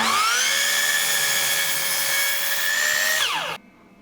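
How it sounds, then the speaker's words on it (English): Power saw crosscutting oak on a Milwaukee MX FUEL power supply, a loud close high-pitched motor whine holding steady through the cut, then spinning down in a falling tone and stopping. "Can it make crosscuts through oak?"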